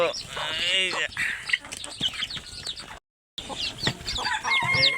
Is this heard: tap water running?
no